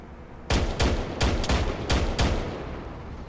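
Gunfire in an Arma 3 Zeus mission, where a vehicle gunner engages an infantry cluster: six sharp, loud shots in an uneven rhythm over about two seconds, each trailing off into a short echoing tail.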